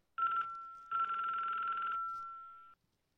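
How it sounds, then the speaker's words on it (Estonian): A telephone rings clearly and close by, a short burst followed by a longer ring, with a steady electronic tone that carries on briefly after the ring stops. "Mu telefon heliseb."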